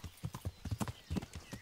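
Horse hooves galloping in the medieval game Kingdom Come: Deliverance, a quick, steady clip-clop rhythm of hoofbeats that stays close and clear with no talk over it.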